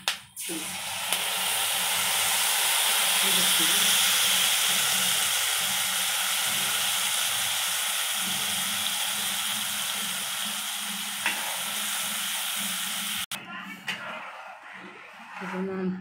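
Tamarind juice sizzles and hisses steadily in a hot pan with curry leaves while pulihora is being made, a loud continuous frying sound that breaks off near the end as a voice speaks over clattering.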